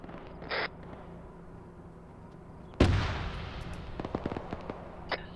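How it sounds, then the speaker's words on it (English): A sharp, heavy boom sounds at a distance, followed by a scatter of fainter cracks and pops, with quieter bursts earlier. "I'm hearing explosions east, southeast."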